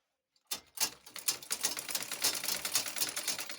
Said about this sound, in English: let me take it to the machine and do the sewing so that you can see it yourself.